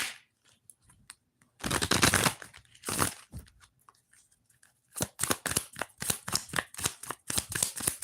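Moonology oracle cards being shuffled in bursts of quick, crisp riffling slaps, with a pause between bursts and a faster flurry of snapping card flicks at the end, close and fairly loud.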